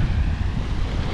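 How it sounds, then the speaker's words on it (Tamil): Steady surf and gusting wind at Kodiakarai beach on the coast facing Sri Lanka, a continuous low roar of breaking waves with wind buffeting the microphone, loud and close, with no voices. "கோடைக்கரை பீச் வந்தாச்சு."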